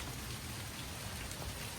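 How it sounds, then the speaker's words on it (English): Steady rain patters on surfaces outside a house doorway in autumn, a dense, even hiss of drops close by with no voices. "The rain has started."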